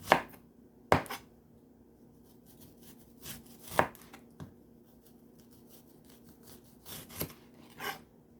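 Knife chopping onions on a cutting board, sharp separate thunks spaced irregularly with short pauses between them, close and clear in a quiet kitchen.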